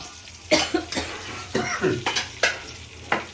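Tandoori chicken cooking on a grill, a low sizzle broken by several loud rough bursts, some like coughs or throat clearing, at irregular intervals.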